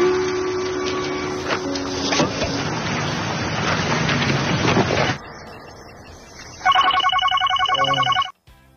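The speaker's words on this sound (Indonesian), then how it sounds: "tiba-tiba telepon berdering dan ia pun terbangun" A telephone rings in a Korean drama scene: after a stretch of dense, busy background sound and a brief lull, a bright electronic trilling ring sounds for over a second, then cuts off abruptly.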